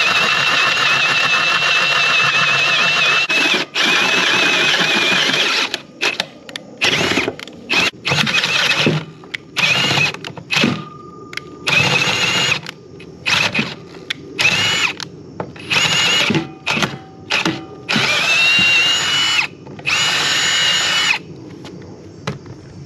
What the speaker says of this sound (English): But I'll finish drilling these out at least.